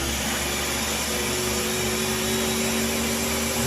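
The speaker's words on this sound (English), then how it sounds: "Serious blender, 500 horsepower." A kitchen blender runs continuously at full power, giving a loud, steady motor whine and roar that stays at even loudness throughout with no talking.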